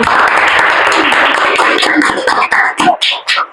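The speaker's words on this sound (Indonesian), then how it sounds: "Tepuk tangan dulu gak sih?" Clapping from a small group in a podcast studio setting, close and loud at first, then thinning into a few scattered claps as it dies away.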